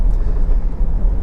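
A Honda CR-V 1.6 i-DTEC diesel engine idles steadily after starting, giving a loud, even low rumble with no speech over it.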